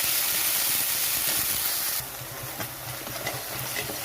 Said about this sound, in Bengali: তো এই তেলের মধ্যে পেঁয়াজ, রসুন, আদা, কাঁচা লঙ্কা বাটা দিয়ে দিচ্ছি।